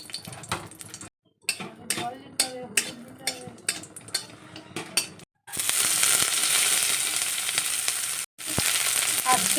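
Onion and dried red chilli hit hot oil as a tempering for dal in a home kitchen. A few utensil clinks and voices come first, then a loud, steady, close sizzle that briefly drops out near the end.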